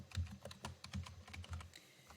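Keys clatter on a computer keyboard as text is typed into a PowerPoint slide, a steady run of close, crisp keystrokes with no voices.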